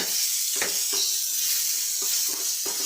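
Crushed ginger and garlic sizzle in hot oil in a pan with browned potatoes while Bengali green pea ghugni is cooked. A steady, close frying hiss runs throughout, broken by a few soft scrapes of stirring.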